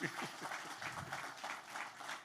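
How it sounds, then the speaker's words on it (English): Audience at a fireside business talk gives a soft, fairly distant round of applause, steady and even with faint voices mixed in. "I think a round of applause for these guys."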